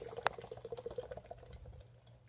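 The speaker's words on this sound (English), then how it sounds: "So we got the 8 ounces of almond milk. We're just gonna pour that in the blender." Eight ounces of almond milk pour into a blender for a strawberry and blueberry smoothie, a soft, quick gurgling stream that trickles off, faint and without talk.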